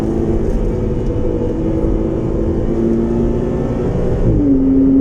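Honda Civic Mugen spec car driving on a race track, its engine a steady, loud drone with rising pitch as it accelerates near the end, heard from close inside or behind another car.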